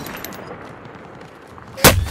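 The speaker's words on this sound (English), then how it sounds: "We're getting shot." A single sharp gunshot in Call of Duty Warzone cracks loudly near the end, after a stretch of quieter ambient game noise with faint metallic ticks.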